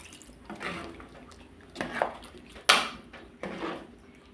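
Water poured into a pot of Kovai-style sambar with cooked dal, giving a few short splashy bursts with quiet gaps between them, close by and moderately loud with no talking.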